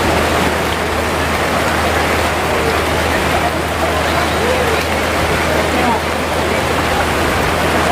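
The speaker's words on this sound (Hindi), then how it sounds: "पानी फुल चालू हो गया जबरदस्त" Water gushes steadily from a newly opened supply line at an outdoor gathering, a continuous loud rushing wash that holds evenly throughout.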